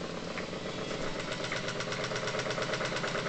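A Bedini pulse motor runs with a fast, even rhythmic pulsing hum, steady and moderately loud throughout.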